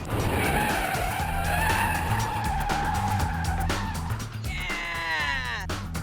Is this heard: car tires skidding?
yes